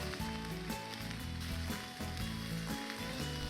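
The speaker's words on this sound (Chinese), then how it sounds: "锅里烧开之后，牛蛙下锅" Bullfrog pieces drop into a pot of boiling pickled-pepper sauce, raising a steady, close bubbling sizzle. It runs continuously beneath background music.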